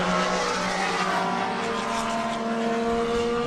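Datsun 240Z race cars and other vintage racers roaring past at the Spokane Festival of Speed, engines whining at high revs over a loud, continuous track rumble.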